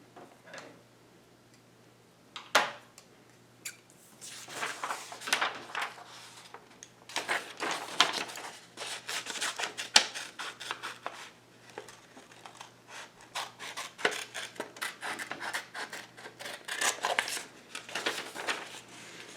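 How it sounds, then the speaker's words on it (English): Scissors snip through a paper triangle in a quiet room, giving irregular crisp cuts and rustles that come in short bursts, close and moderately loud, with no talking. "And while I'm cutting this out"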